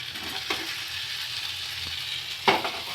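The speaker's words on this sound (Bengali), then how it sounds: "তো বাস এইটুকু জলটা টেনে অবধি ভেজে নিলেই হবে।" Chicken pieces for tandoori fry in a pan with a steady, close hiss, broken by two brief sputters and a few faint stirring clinks.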